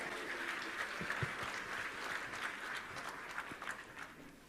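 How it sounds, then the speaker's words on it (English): Faint, distant applause from a crowd at an outdoor political rally in Bengaluru, a steady patter of clapping that carries on for several seconds. "Can you give yourself a big hand?"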